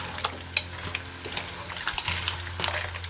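Cooked mussels tipped into a hot pan with mushrooms, giving a steady close sizzle with a sharp clatter early on and a few softer knocks of stirring.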